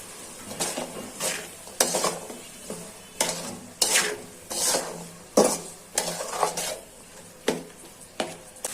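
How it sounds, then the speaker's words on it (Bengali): Green peas being stirred and fried in a pan with ginger, spatula scrapes recurring in a steady rhythm about once a second over a soft sizzle, close and fairly loud with no talking. "এখন নেড়ে চেড়ে কষিয়ে নিব।"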